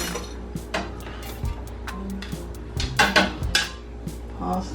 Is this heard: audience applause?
no